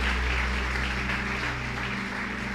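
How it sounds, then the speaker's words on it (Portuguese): A church congregation applauding during a sermon: dense, continuous clapping that stays loud and even throughout, with no distinct voices. "Alguém pode aplaudir a Jesus nessa noite?"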